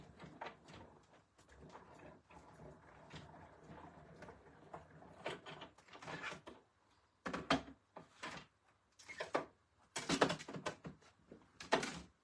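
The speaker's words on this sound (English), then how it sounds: "I'm just going to run it through my cut and emboss machine" A cut and emboss machine runs a card through for a One Horse Open Sleigh craft project. The sound is a close mechanical rumble with irregular knocks and clunks, getting louder and more jerky as the cranking goes on.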